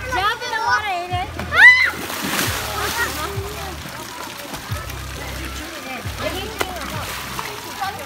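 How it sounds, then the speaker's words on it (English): A child jumps into the water with a loud splash and sloshing, heard near and amid excited children's voices and adult talk, followed by continued gentle water movement. "Jump in the water, Aiden."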